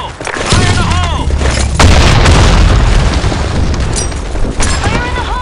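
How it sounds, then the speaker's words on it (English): Grenade blast in the online shooter BlackShot on the Sandstorm map, a loud booming burst that fills the clip amid game gunfire and effects. "Fire in the hole! Grenade!"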